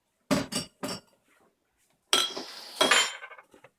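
Utensil scraping and clinking against a pressure cooker pot while onions, butter and pre-fried ground meat are stirred together, in a few short bursts near the start and then a longer, busier stretch of stirring noise.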